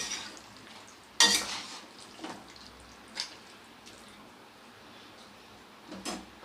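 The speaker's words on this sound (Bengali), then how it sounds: "এবারে আবারও একবার খুব ভালো করে নেড়ে দেবো।" Mutton kosha is stirred in a pan, with soft scraping and a few sharp clinks of a spoon against metal over a faint sizzle, quiet and close.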